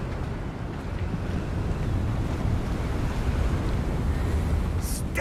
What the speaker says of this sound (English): Sounds a bit windy.